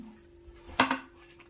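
A plate is taken up to serve a butter masala omelet, giving one brief, fairly quiet ceramic clink with a quick second knock in an otherwise quiet kitchen.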